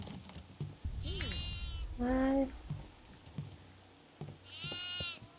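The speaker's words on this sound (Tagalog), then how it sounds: "May kambing sa mga kwarto." Goat bleats in the horror game Devour, three wavering calls in a row, clear and fairly close, with people talking between them.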